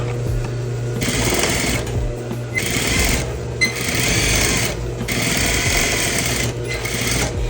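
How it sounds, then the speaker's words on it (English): A sewing machine stitching a denim skirt runs in several sustained whirring bursts, each a few seconds long, separated by brief pauses, close and steady with a low motor hum underneath. "I'm sewing right up to where the split is, and then I'm gonna cut it off."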